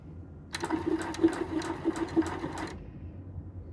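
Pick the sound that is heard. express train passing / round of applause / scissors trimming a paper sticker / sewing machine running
sewing machine running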